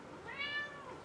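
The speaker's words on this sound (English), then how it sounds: "that's my cat. He's very meowy today." A pet cat gives a single short, close meow, fairly faint against a quiet room.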